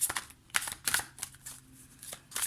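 Golden Lenormand oracle cards are handled and shuffled close up, quiet papery riffles and slides arriving in short irregular bursts with pauses between.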